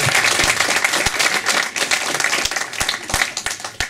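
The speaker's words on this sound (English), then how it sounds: "If you give them a round of applause" An audience claps steadily in a dense, even burst of applause from a room full of people, loud and sustained throughout with no speech.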